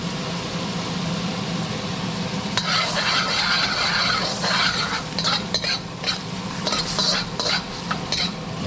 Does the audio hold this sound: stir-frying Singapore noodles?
yes